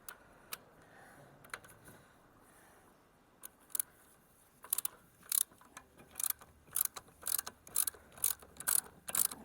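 A socket wrench ratchets on a bolt in the rear suspension of a BMW E30 325is Evo1. A few sparse clicks come first, then a steady run of sharp, close ratcheting bursts in a regular rhythm.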